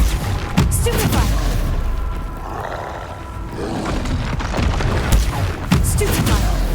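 A Stupefy spell cast in Hogwarts Legacy during a fight with a troll: a loud magical blast with booming, roaring impacts that repeat over several seconds amid continuous combat noise, with no talking.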